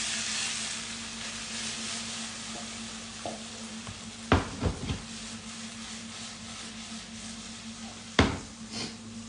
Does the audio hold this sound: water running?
no